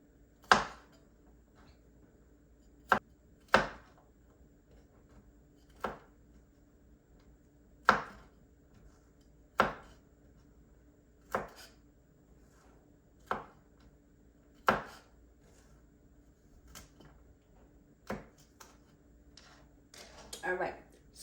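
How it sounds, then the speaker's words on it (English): Sharp knife taps on a cutting board as garlic clove ends are trimmed off, about a dozen crisp, evenly spaced cuts, close and alone against a quiet kitchen hum. "I'm gonna cut the ends off my garlic and then we're gonna mince it"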